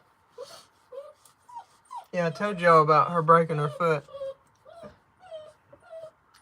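A puppy with a broken foot whines and whimpers in short rising cries, with one longer wailing stretch in the middle, close to the microphone while someone talks quietly around it.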